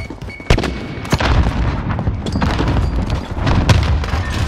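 Loud booming blasts from a grenade explosion in a first-person shooter, with several sharp impacts and gunfire-like bursts over a dense, continuous rumble of combat.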